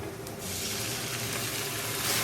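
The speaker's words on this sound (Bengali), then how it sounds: "এবারে আমি এখানে একটু জল দেবো।" Water poured into a cooking pot for Bengali muri ghonto made with a katla fish head, a steady, close rushing splash that lasts throughout.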